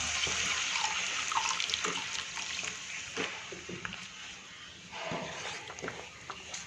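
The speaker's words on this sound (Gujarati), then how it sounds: "થોડું પાણી એડ કરીશું મિત્રો આપણે થોડું પાણી એડ કરીશું" Water poured into cashew curry gravy in a hot pan, a rushing splash at first that settles into a bubbling sizzle, close by.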